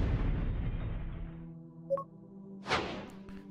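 A planet-destroying weapon detonates in a video game with a loud, broad rumbling blast that slowly fades over a second and a half, followed by a quieter pop and a brief whooshing burst.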